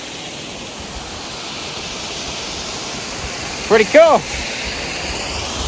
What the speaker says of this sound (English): And you got the river out here.